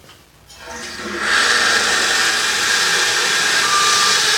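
A fire sprinkler alarm check valve test: after a brief quiet start, water rushes through the valve and a steady, loud hissing flow builds, holding at a constant level as the alarm line fills.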